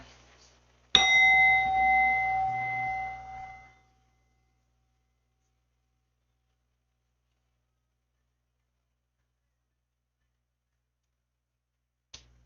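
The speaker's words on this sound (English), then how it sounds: "The first chime." A meditation chime is struck once, a bright metallic ring with clear overtones that sustains for about three seconds and fades into silence, with a faint tap near the end.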